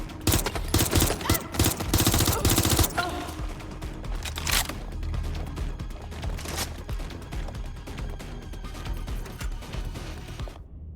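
Rapid bursts of automatic gunfire in the video game Watch Dogs Legion, dense and loud at first, then an ongoing crackle of shots and mechanical clatter that continues more steadily to the end.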